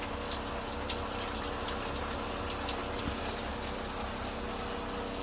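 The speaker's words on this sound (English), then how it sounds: "Get that hot water to flowing so that hot water heater will kick on." Hot water runs steadily from a tap inside an RV in freezing winter weather, a continuous gushing splash heard close and alone.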